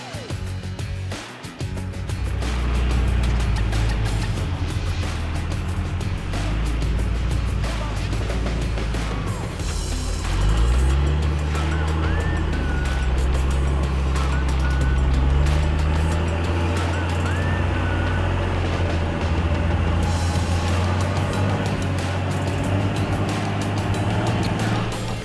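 Off-road vehicle climbing a wet, muddy trail with wheels spinning, a loud continuous engine roar that swells and revs as the tires churn.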